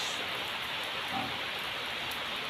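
Heavy rain pours in a dense, steady hiss that fills the scene, loud and unbroken with no voices.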